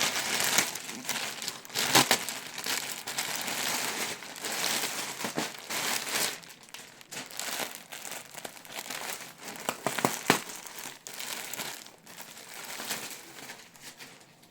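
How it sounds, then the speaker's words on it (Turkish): A delivered parcel's packaging crinkles and crumples steadily as it is opened up close, with rustling bursts and sharper crackles throughout and no talking. "Şimdi bir kargom geldi. Sizinle beraber açalım."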